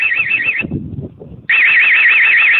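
A homemade alarm blares a loud warbling siren tone in steady rapid cycles, cuts out briefly to a low rumbling gap, then resumes just as loud.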